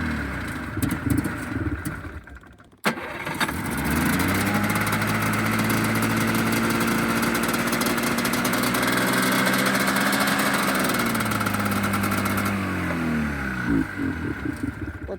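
A family snowmobile engine catches after a rough start, then runs at a steady, loud idle with a firm droning hum, and the revs dip and waver toward the end.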